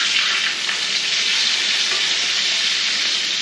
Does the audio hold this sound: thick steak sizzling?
yes